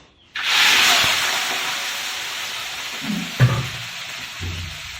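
Food dropped into hot oil in a pan bursts into a loud, sudden hiss that slowly fades into a steady sizzle, broken by a few small clatters and pops near the end.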